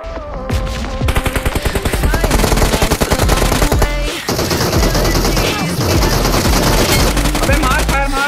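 Video game gunfire comes close and loud in rapid automatic bursts, a steady machine-gun rattle that runs almost without pause across several seconds, with voices faintly under it.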